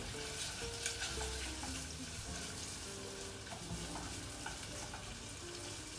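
Onions sautéing in a pan, a faint continuous sizzle and hiss with occasional soft stirring sounds, no voices.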